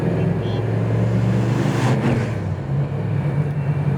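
A Ford Comet on a test drive gives off a steady, loud engine and road drone from inside the cabin, with a slight change in pitch partway through.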